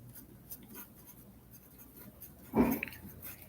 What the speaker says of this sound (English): So when I divide these, we're going to write it, Mrs. Wall, like this.